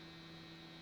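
Steady electrical mains hum picked up by single-coil electric guitar pickups, a faint, constant buzzing drone with no other sound over it.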